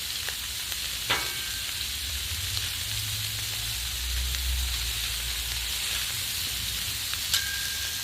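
Sausages sizzle on a Blackstone flat-top griddle, a continuous close frying hiss with low bubbling underneath and a couple of faint scraping clicks, no one speaking.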